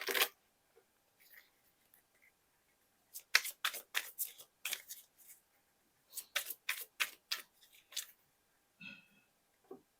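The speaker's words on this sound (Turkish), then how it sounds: "Bir de arkadaşlar yeryüzü savaşçılarından bir kart seçelim." Oracle cards being shuffled and picked, quiet crisp bursts of riffling and flicking in several quick clusters with short pauses between, close up and without talk.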